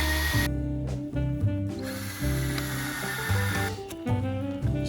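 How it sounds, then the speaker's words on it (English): A power drill whines loudly in bursts as self-tapping metal screws are driven in, motor pitch shifting up and down with each screw, close and continuous. "Going ahead and drilling these screws."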